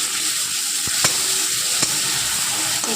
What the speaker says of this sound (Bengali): মশলাটা ভালো করে এবার কষিয়ে নিল।